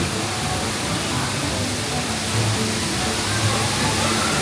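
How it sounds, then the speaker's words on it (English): Steady, loud rushing water like a heavy cascade crashing down on a log flume ride at Tokyo Disneyland's Splash Mountain, a continuous broadband roar with no pauses. "The waterfall drop is supposed to be scary."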